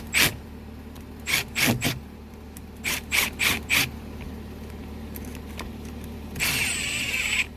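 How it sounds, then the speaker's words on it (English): A no-hub band clamp on cast iron pipe is tightened with a ratcheting tool in short bursts of clicks, two quick groups and then several more, followed by a brief rasp, close and fairly faint over background hum. "And then we tighten it all the way down in the same order we did."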